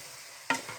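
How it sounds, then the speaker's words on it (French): A single short scrape of a spoon stirring fish in mango sauce in a pot, a quick close clatter over a soft simmering hiss, then quiet. "maintenant je vais remuer le tout"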